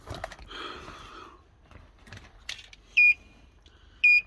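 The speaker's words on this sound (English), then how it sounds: "It's already beeping at us, look, because the battery is way too low." OBD2 breakout box plugged into a hybrid car with a low 12V battery, giving two short, sharp electronic beeps about a second apart after faint handling clicks and rustling.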